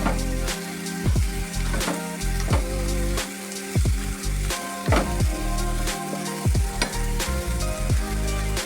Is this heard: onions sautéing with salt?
yes